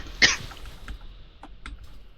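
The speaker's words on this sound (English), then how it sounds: "It's just a cough." A single short cough close by during World of Warcraft play, followed by a quiet background with a few faint clicks.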